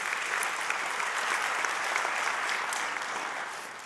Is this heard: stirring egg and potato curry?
no